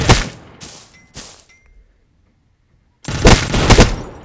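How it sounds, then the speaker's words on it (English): Bursts of suppressive automatic gunfire in a shooter video game, loud and close: two short volleys, a quiet gap of over a second, then a longer sustained burst. "Веду огонь на подавление!"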